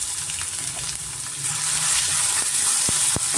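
Chopped onion sizzles steadily in hot oil in a pan for egg rice: a constant close crackling hiss with a few faint pops and no talking.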